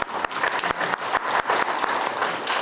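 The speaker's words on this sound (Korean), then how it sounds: "우리 의원님께 큰 박수 한 번 부탁드립니다." Audience applause at a Cheonan resident autonomy committee inauguration ceremony, a steady burst of many hands clapping throughout, fairly loud and close with no talk over it.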